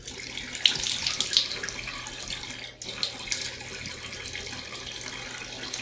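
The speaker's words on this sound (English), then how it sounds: "get your beard nice and soaked with warm water" Warm tap water runs steadily from a faucet into a sink while a man soaks his beard, a continuous splashing rush with brief shifts as hands move through the stream.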